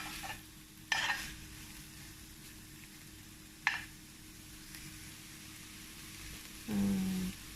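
Buckwheat with meat and tomato paste cooking in a pan, a quiet low sizzle broken by a few sharp utensil scrapes and stirs, ending with a louder brief burst of bubbling.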